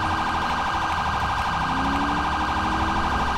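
A steady police siren wails loud and continuous during a highway pursuit in the LSPDFR police game, with a low engine drone underneath and no talking.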